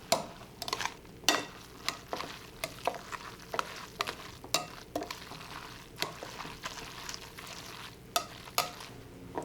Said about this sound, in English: So let's stir this up, see what it turns into.